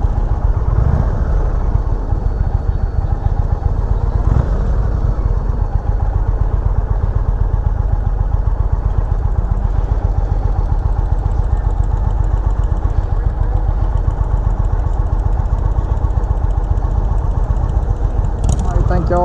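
A 2020 Indian Chieftain Limited motorcycle engine runs steadily and loudly throughout a demo ride, a continuous low rumble with constant road and wind noise and no pauses.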